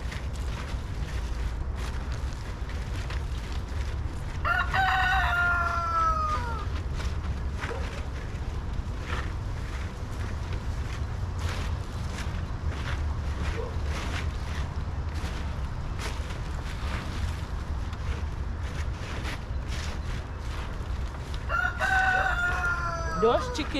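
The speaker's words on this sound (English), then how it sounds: "Those chickens are ridiculous. They make so much noise." A rooster crows twice in a backyard where chickens are kept, each call a rising, wavering cry heard over constant wind-like rumble, with soft clucking in between.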